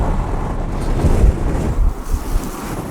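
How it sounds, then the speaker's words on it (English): Strong gusty wind buffets a microphone at an open desert camp, a steady low roar that swells and dips over a few seconds with no voices. "Nothing too special, just like a desert camp, but the wind picked up."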